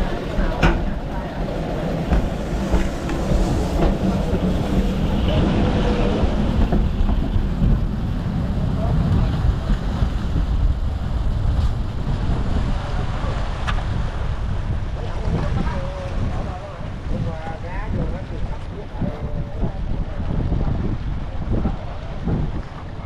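A fishing boat's engine runs steadily just after launch, the vessel fitted with a large propeller shaft system, its drone blending with wind buffeting the microphone and water noise throughout.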